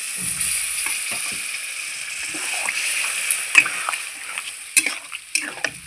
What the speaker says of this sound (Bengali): এবার আমি আলুটা সিদ্ধ হওয়ার জন্য সামান্য একটু জল দিয়ে দিচ্ছি